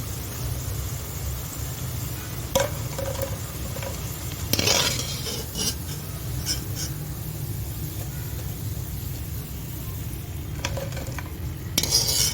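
Mint and ginger pakoras frying in oil in a kadai over low heat, a steady close sizzle broken by occasional clinks and scrapes of a utensil against the pan; no talking.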